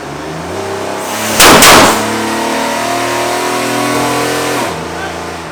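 A nitrous-equipped Firebird engine roars loudly on a dyno in a steady, sustained drone, with a sharp burst of noise early on and a drop in pitch near the end as it winds down; voices speak faintly under the engine.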